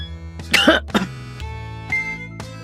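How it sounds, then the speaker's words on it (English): A person coughs twice in quick succession, close and sharp, followed by a couple of softer throat sounds. "We can't control our coughs, can we?"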